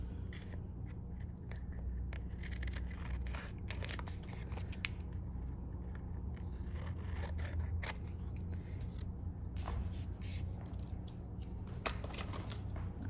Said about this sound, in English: I'm going to take scissors and just cut that away